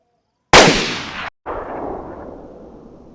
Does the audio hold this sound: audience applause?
no